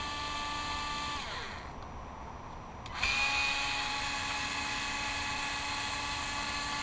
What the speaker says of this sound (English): The electric screwdriver really saves you a lot of wrenching, so it's good for that.